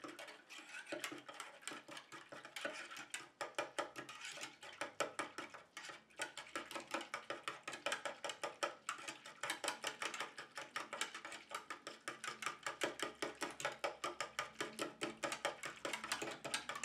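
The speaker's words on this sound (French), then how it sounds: "Je prends mon mélange de poudre que je viens incorporer à ma phase aqueuse. Et je viens mélanger jusqu'à ce que tout soit fondu." A body cream mixture being stirred as powder is worked into its water phase, a steady run of rapid clicking and scraping taps of utensil against container, close and even, with no one talking.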